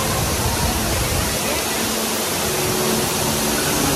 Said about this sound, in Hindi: कितनी ऊपर से ना कितनी मस्त हवा और पानी आ रहा है।